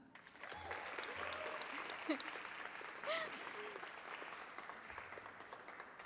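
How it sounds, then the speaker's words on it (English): A crowd applauds students at an awards show, sustained clapping throughout with a few faint whoops rising above it. "Can we get a round of applause for them?"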